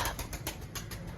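Pigeons in a cage where a hen sits on eggs make soft, rapid bursts of shuffling and wing flutter in a quick repeating rhythm. The sound is close and fairly quiet, with no talking.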